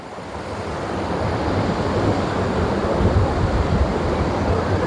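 A small waterfall at Kollimalai, running low in the hot dry season, gives off a steady, loud, full-range rush of falling water that holds constant throughout with no voices.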